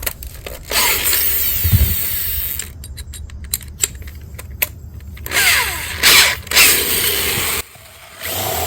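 Power drill boring a half-inch hole in a 2022 Ford Maverick phone mount, with several short whirring bursts separated by pauses and a louder, longer run near the end, close up with no talk.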